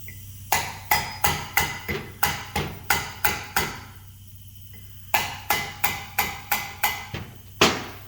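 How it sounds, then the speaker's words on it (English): Sharp metallic hammer taps on the valves of a Subaru EJ25 cylinder head, in a steady rhythm, a run of about a dozen strikes, a brief pause, then several more, close and loud. "Tap on the valves to open them up and close them"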